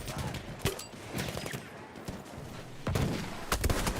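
Rapid bursts of gunfire crack in the Battlefield video game, several sharp shots clustered near the start and more at the end, with a voice audible underneath.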